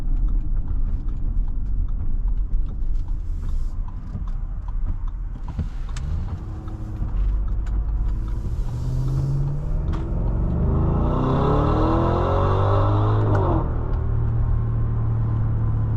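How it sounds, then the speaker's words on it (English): A 2023 Audi SQ7 Premium Plus accelerating hard on the road, its engine note rising in a loud, sustained rumble that swells toward the end, heard from inside the cabin with no talking. "As you can see, that acceleration is insane in this car."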